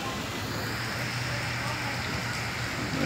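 Hail pelts down in Curitiba, Paraná, Brazil during an October storm, a dense, steady hiss and patter of ice hitting surfaces that fills the scene without pause.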